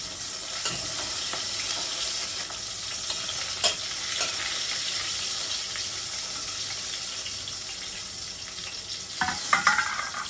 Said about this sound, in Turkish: Biraz da kızartma yapıyorum